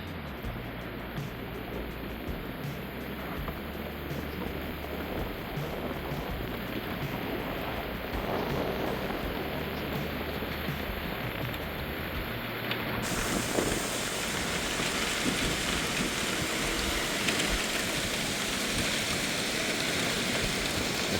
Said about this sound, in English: Pretty good rainfall